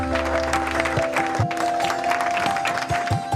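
Shareholders applaud at a company's annual general meeting in a large hall, with steady clapping running throughout under a sustained tone and some faint background noise.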